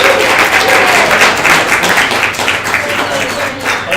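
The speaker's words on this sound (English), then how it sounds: "big round of applause to Dan" A live audience applauds a presenter at an evening Drupal talk, steady dense clapping that fills the room evenly for several seconds without letting up.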